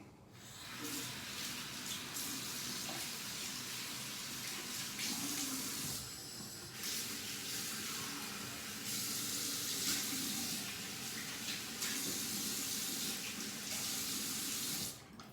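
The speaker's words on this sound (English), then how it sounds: "So I'm gonna rinse my face off real quick" A bathroom sink tap runs steadily while someone rinses their face, water splashing and shifting in pitch as hands move under the stream, with no talking.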